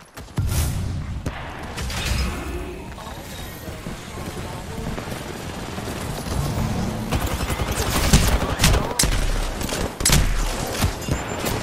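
Rapid bursts of automatic gunfire from Apex Legends crackle loudly and close, coming in dense volleys with short pauses, mixed with impact booms while players talk over the fighting.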